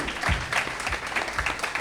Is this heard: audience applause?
yes